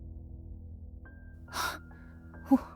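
A woman's short, sharp gasp, followed a moment later by a quicker intake of breath, heard close against a quiet low hum.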